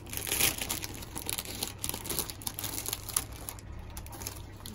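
A crinkly snack bag of Çerezza crisps is opened, with close, quiet crackling and crumpling in irregular bursts and a few sharper rustles.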